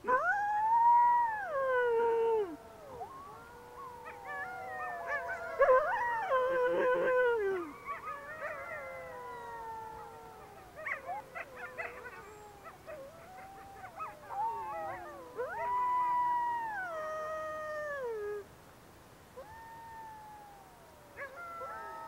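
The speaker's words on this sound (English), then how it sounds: "Wolves howl to express the full range of their emotions, to communicate with each other over long distances, or simply for the pleasure of singing in unison" Wolves howl together in a chorus, several long, rising and falling wails overlapping and trading off, with occasional yips and whimpers between the swells, carrying clearly without any talk.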